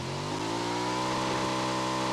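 A triple-seat vehicle in the video game BGMI revs its engine, a loud steady mid-pitched drone with rising harmonic tones, heard alone.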